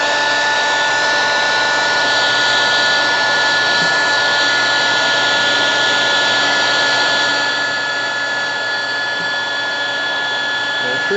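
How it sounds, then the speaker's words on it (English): A heat gun blows a steady, loud airflow hiss onto heat shrink tubing while working on a 1985 BMW 635 CSI, continuous throughout with a slight drop in level near the end and no talking. "So you take the heat gun and just put it through it."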